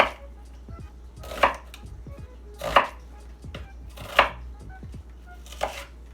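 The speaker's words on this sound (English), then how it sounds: "I'm going to cut these lengthwise, kind of thick." Green onions cut lengthwise into thick pieces with a kitchen knife on a board, four firm chops spaced about one and a half seconds apart, close and clear against a quiet background hum.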